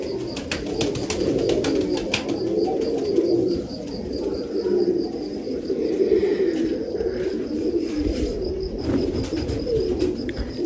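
Pigeons kept in a home loft coo steadily and close by, a continuous low murmuring chorus with soft chirps and brief wing flutters throughout.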